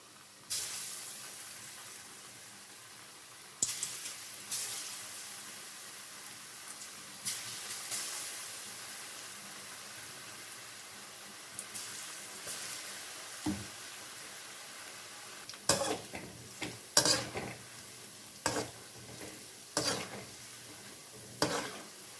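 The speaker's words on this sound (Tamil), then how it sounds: "குட்டி குட்டியாக வடையை போட்டு எடுத்துக்கிறேங்க." Small vada lentil fritters deep-fry in oil with a soft, continuous sizzle, punctuated by clicks and scrapes of a ladle and spoon that grow busier later on; fairly quiet overall, no voices.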